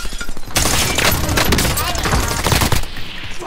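Rapid automatic gunfire in an online shooter video game, loud close bursts that crackle almost continuously for a couple of seconds before cutting off.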